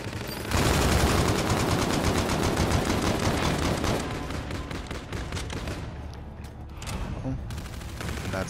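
Heavy sustained automatic gunfire in the sci-fi shooter Call of Duty: Infinite Warfare, a loud dense fusillade that thins into separate sharp shots toward the end.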